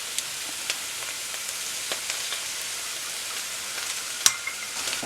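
Egg sizzles and fries with bitter melon in a hot pan during a stir-fry, a steady close crackling hiss dotted with small pops and a few sharper clicks of stirring, with no talking.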